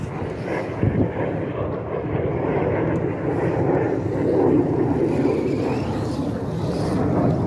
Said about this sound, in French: les avions de chasse qui sont en train de passer au-dessus de moi là